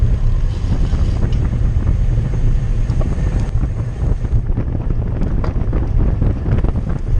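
Loud, continuous wind roar buffets the microphone of a cyclist riding downhill into a headwind during a criterium race, a dense rushing noise with no voices.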